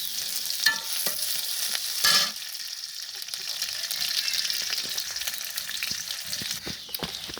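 Onions and chillies frying in oil for mahashol fish bhuna, a steady close sizzle with scattered stirring clicks and one louder burst of crackling near the start.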